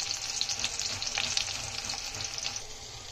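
Garlic fries in oil in a pan over medium heat, a bright, steady crackling sizzle with small popping bursts throughout, close and fairly quiet, with no talking.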